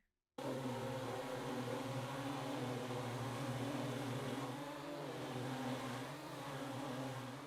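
A quadcopter from the Strata Collection hovers with a steady, buzzing rotor drone. The sound starts abruptly after a brief silence and holds near-constant in pitch and loudness, alone and close, with a slight dip in intensity around the middle.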